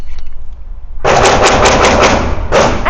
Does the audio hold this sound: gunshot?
yes